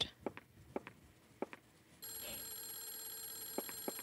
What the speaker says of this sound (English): The phone's been ringing for a long time.